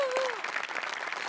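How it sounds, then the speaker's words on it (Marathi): An audience at a Marathi comedy show claps in a dense, steady round of applause, with a brief voice at the start. "तर सेटिंगवाल्यांसाठी सुद्धा टाळ्या."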